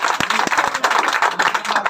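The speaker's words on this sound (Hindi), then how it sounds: "ताली बजा भैया" Hands clapping in a brisk, uneven burst at a street protest in Ayodhya, several people applauding together with sharp overlapping claps for a couple of seconds and no talk over them.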